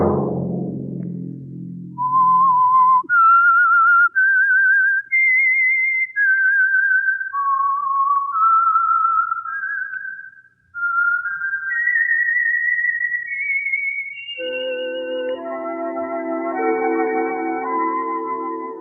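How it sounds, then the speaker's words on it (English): Theme whistle from The Whistler radio drama, a solo human whistle rising through a slow, eerie melody of held notes, clear and close, ending as an orchestral chord swells in. "Let that whistle be your signal for the Signal Oil program, The Whistler"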